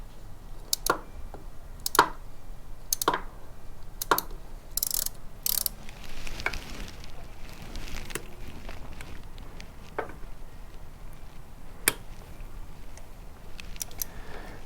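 A torque wrench tightens bolts on a Kohler Command 18 engine during a rebuild, giving sharp ratcheting clicks and metallic ticks spaced irregularly over quiet background, close and fairly faint.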